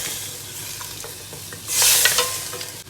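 A spoon stirs meat frying in a pot with freshly added ginger and garlic for aloo gosht, with a close, crackling sizzle, scraping stir sounds and a brief louder hiss burst near the end.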